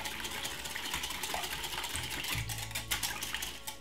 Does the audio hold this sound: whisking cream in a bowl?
yes